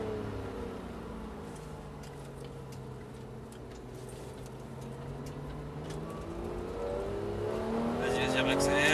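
Porsche GT3 race car engine on a rally stage in Pau Arnos, steady engine drone with rising pitch as it accelerates near the end, heard alongside background talk.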